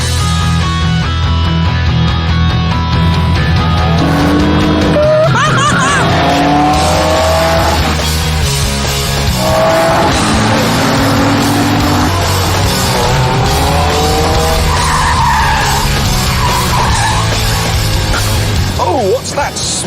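Cars including a Morgan race hard around a loop, engines loud and close, revving up and down through gears with repeated tire squeals and skids, over a constant roar.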